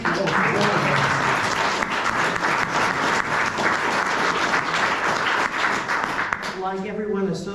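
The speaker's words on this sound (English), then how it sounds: "Everybody give Marla a round of applause." An audience at a history awards night gives sustained, dense applause that stays loud for several seconds, then tapers as a voice begins speaking near the end.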